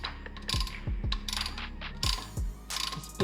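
A caliper pusher tool works the front brake caliper piston of a 2016 Dodge Journey SXT, producing a quick series of close, sharp ratcheting clicks in short irregular bursts.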